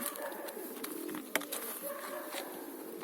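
Pet pigeons outdoors in the sun: steady soft cooing and murmuring from several birds close by, with light flutters and a brief sharper sound partway through.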